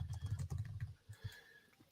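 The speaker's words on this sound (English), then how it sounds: "I can hear you typing too." Quick, soft clicking of a computer keyboard, a fast burst of keystrokes followed by a few scattered taps, close but faint.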